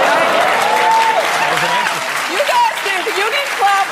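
Studio audience applause on a daytime talk show, a loud, steady roar of clapping with voices talking over it and brief calls rising through the noise.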